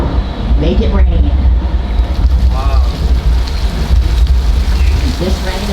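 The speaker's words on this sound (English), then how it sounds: "This rain is the result of an overhead sprinkler system, which shoots the water straight up into the air to let it fall back down to the earth naturally." Artificial rain pours from an overhead sprinkler system during a nighttime studio tour flash-flood scene, a dense, constant roar of falling water with low rumble and wind buffeting, loud and close, with faint voices underneath.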